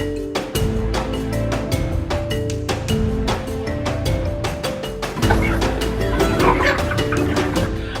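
Kuroiler chickens on a farm, many birds clucking and cackling in repeated busy bursts, loud and close, with a dog-like yip mixed in and a denser rise of calls partway through.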